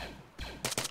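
Gunfire rings out during a video game military operation, two sharp loud bursts close together near the end after a quieter stretch.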